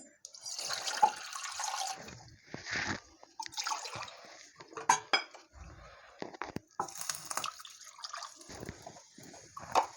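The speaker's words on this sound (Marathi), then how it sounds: "त्याच्यामध्ये मी आणखीन एक वाटी इतकं पाणी ॲड करून घेते" Water poured into yogurt for kadhi gives splashing, dripping and stirring sounds with utensil clinks against a bowl, intermittent and close, under speech.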